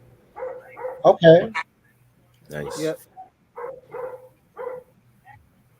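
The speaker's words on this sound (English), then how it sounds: "Somebody dog acting up in the background." Neighbor's dog barking and yipping in the background in short bursts, with a sharper whining yelp midway, while a person speaks briefly nearby.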